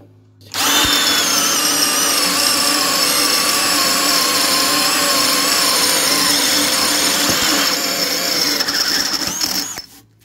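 A Parkside 12V cordless drill on its small 2 Ah battery, set to second speed, bores a 20 mm hole. It makes a loud, close, continuous whine that holds steady for about nine seconds before cutting off.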